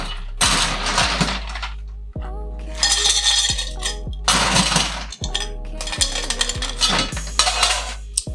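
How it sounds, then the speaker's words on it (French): Ice cubes are dropped and stirred in a glass to chill dry vermouth. Bright, close clinks and rattles come in several separate bursts with short quiet gaps between them. "Un peu de glace afin de le rafraîchir."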